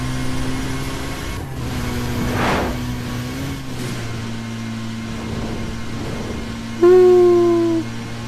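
A car engine and exhaust in Need for Speed Most Wanted drone at a steady mid pitch, with a brief rev swell and a sharp tonal beep near the end, loud and close without voices.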